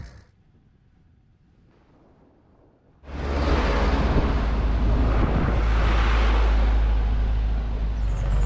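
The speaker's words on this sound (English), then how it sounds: "a wind coming from the sea in the north, which is obviously much cooler, and it's also blowing me in the direction I want to go" Wind off the sea from the north hits the microphone with sudden force after a quiet stretch, a loud, continuous low roar and rush that holds steady to the end.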